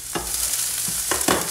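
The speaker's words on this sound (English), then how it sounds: "Oh, that's a beautiful sound. You hear that sizzling? Get our onion started." Onion sizzling in olive oil in a pan, a steady close crackling hiss with a few brief louder bursts as it is stirred, no voices.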